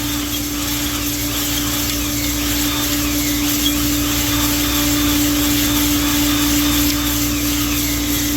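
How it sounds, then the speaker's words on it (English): A cylinder hone lubricated with WD-40 spins inside an engine cylinder, giving a loud, steady, whining drone that stays level throughout at close range. "I'll show you on these couple cylinders of how to hone a cylinder with one of these hones"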